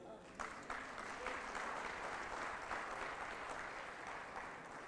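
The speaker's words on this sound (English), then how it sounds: "a big round of applause for my co-host" A crowd applauds at an awards night in Colombo, giving a sustained, even wash of clapping from many hands. The sound is fairly distant and low in level, and talk mixes in faintly.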